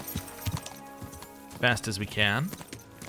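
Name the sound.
horse galloping hooves in Kingdom Come: Deliverance II video game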